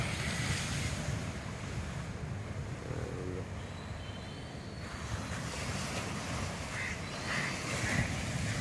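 A calm sea washes onto a Kerala beach in the morning, a steady, soft hiss of surf mixed with wind buffeting the microphone.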